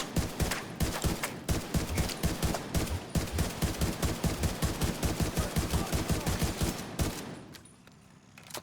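Turret gunfire in a video game hammers out a rapid, evenly spaced stream of loud, close shots for several seconds, then cuts off abruptly and leaves a quieter background.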